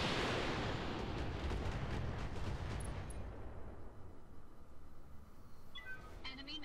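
Weapons fire and explosions in the Roguetech mech combat game: a loud rumbling barrage of blasts that fades into lighter crackling and distant booms, ending with a few sharp electronic tones.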